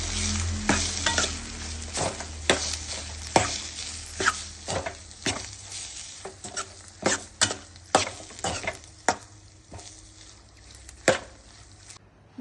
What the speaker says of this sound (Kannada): ಉಳಿದಿರೋ ಎಣ್ಣೆ ಈರುಳ್ಳಿಗೆ ಪಲ್ಯ ನೋಡಿ ಹಾಕ್ಕೊಂಡು ಚೆನ್ನಾಗಿ ತಿರುಗಿಸ್ಕೊಂಬಿಡಿ